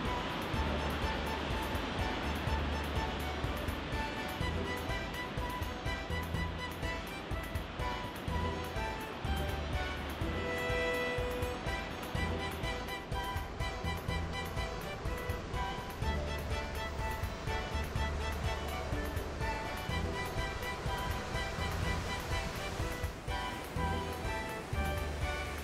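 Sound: ocean waves crashing against rocks and cliffs

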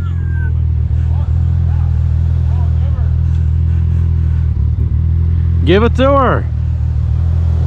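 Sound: drag car doing trailer burnouts

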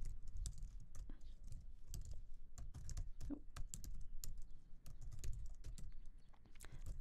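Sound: typing a Maven command on a computer keyboard

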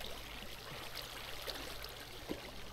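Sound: waterfall flowing in Minecraft (video game)

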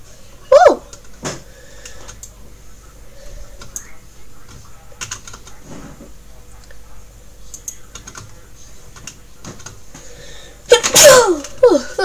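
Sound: sneeze

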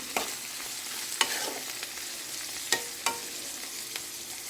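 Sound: bitter gourd curry cooking with salt, chili powder and tomatoes

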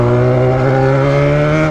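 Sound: Yamaha XJ6 motorcycle accelerating

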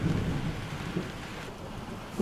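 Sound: rain falling during a thunderstorm by Inari Lake, Finland

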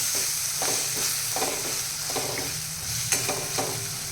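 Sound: stirring coriander powder into moth bean curry in pan

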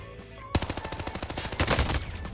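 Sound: machine gun fire in Plunder video game

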